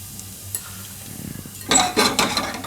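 Cumin seeds and asafoetida dropped into hot ghee for a khichdi tempering: quiet at first, then a sudden close burst of crackling sizzle that flares in a few surges toward the end, with no talking.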